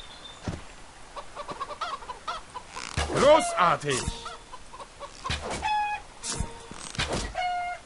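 Chickens cluck in a village in the video game Divinity 2: Ego Draconis, a run of short in-game clucks and fowl calls over game ambience, with someone speaking briefly.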